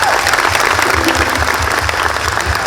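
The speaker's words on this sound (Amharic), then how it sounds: "አጨብጭቡላት" Applause from an audience at a film premiere celebration, a dense, steady wash of clapping hands that carries on loudly and evenly throughout without a break.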